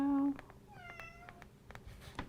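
A house cat gives a couple of short meows close by in a quiet room, with faint background noise between them.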